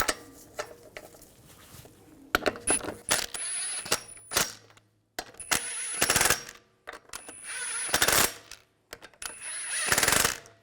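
Short bursts from an impact wrench snugging lug bolts onto the front wheel of a 2006-2010 BMW 550i in a garage, several rapid rattling hammer bursts separated by pauses, with clinks of tools in between.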